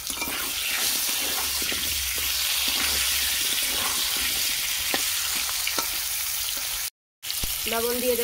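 Potatoes fry in leftover fish-frying oil with a loud, continuous sizzle and crackle, interrupted by one brief silent gap near the end.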